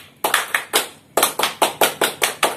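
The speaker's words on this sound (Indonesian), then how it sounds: "Mari kita tepuk pramuka sekali lagi." A Scout group claps in a quick rhythmic pattern, a few sharp claps, a pause, then a faster run of evenly spaced claps.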